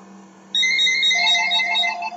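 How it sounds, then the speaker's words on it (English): A phone ringtone bursts in loudly after a quiet half second during a Dirt Track Racing 2 session, bright repeating electronic tones that warble on for over a second and a half, alone. "my typical phone call during gameplay"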